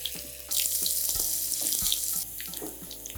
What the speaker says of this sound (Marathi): चरचरीत लसणीची फोडणी रेडी आहे.